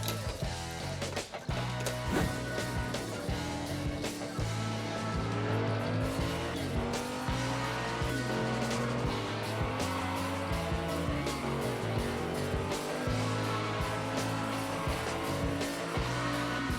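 A yellow Ford Focus toy car and a red C10 Chevy truck race down a Hot Wheels track, a continuous loud rolling and whirring under busy, layered mechanical noise with shifting tones, no talk.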